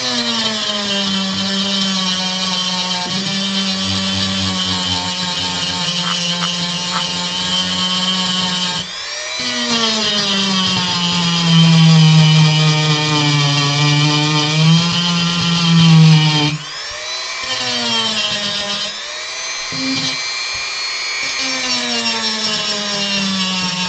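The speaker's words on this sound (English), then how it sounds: "We're going to do what we can to get this sander into some of these spots." A power sander grinds steadily into a carved Final Fantasy V map model of the Eastern Continent, a continuous whining drone that shifts pitch as it presses in and eases off, loud and close with no talk.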